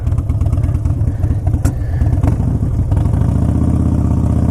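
Harley-Davidson Dyna Super Glide engine while riding, a loud, close, deep loping rumble with uneven pulses that steadies into a smoother drone.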